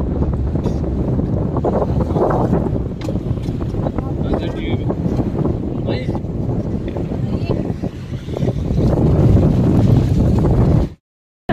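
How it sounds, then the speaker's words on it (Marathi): A boat sets off on the backwaters with a low, steady rumble and heavy wind buffeting the microphone, while voices talk throughout. The noise ends abruptly near the end. "निघाली आमची बोट."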